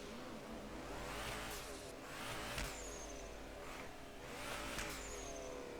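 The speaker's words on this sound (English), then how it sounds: "You can hear the dump valve whirring away" Drift21 video game car engine revving with a turbo dump valve whirring and fluttering, sustained and fairly loud, swelling in repeated bursts of acceleration and letting off.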